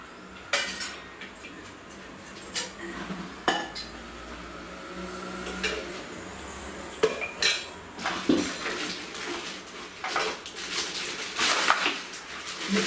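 Heavy cooking pots made for an induction stove are handled along with a lid, producing sporadic close clanks, knocks and metallic clinks at irregular intervals with no talking.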